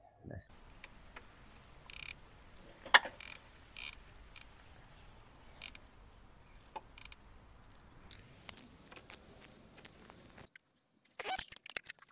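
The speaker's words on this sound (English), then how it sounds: "So first we'll turn the engine until it all lines up." A 2016 Skoda Fabia 1.6 diesel engine is turned over by hand in a workshop, giving sparse, close mechanical clicks and ratchet ticks separated by quiet pauses, with a brief burst of rattling near the end.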